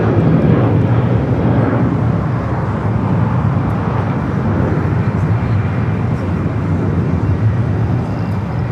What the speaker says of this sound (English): flight 113 heading back to Manila. Now starting to roll down to 24 left